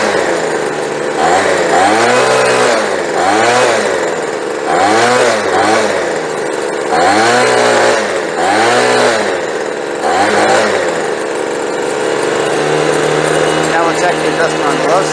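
A small two-stroke leaf blower engine with a carburetor that won't keep it running, revving up and sagging in repeated surges during carb adjustment, then settling to a steadier low idle, loud and close.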